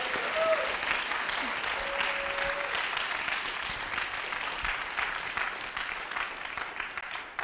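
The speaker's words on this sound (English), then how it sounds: "A round of applause, please." Sustained applause from wedding ceremony guests right after a couple is pronounced joined in holy matrimony, steady and dense for the whole stretch, with faint voices and cheers mixed in.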